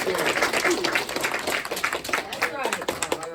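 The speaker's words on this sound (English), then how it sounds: "Give me a round of applause, y'all." People at a community safety meeting in a conference room give a round of applause, uneven clapping from a small crowd with voices talking and calling out over it.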